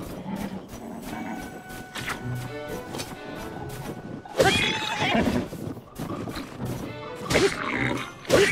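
A horse neighs loudly several times in The Legend of Zelda: Tears of the Kingdom, over a busy layered backdrop of clip-clopping hooves and music-like tones, with repeated whinnies in the second half.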